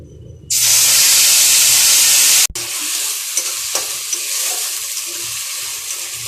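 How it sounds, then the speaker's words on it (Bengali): Spices and chopped onion being stirred and fried in a pan with bay leaf, dried red chilli and nigella seeds: a loud burst of sizzling as they hit the hot oil, then steady lower frying with scraping stirs, no talking. "এবার মশলাগুলো দিয়ে দেব।"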